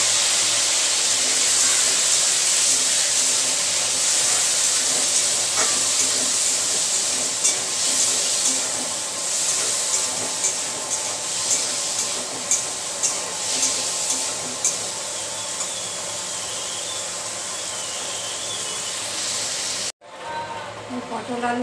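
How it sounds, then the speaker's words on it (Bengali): Prawns frying in a pan, a steady broadband sizzle that runs loud and continuous, close up, with occasional crackles and spits, ending abruptly near the end. "এবার চিংড়ি মাছটা ভেজে নিচ্ছি।"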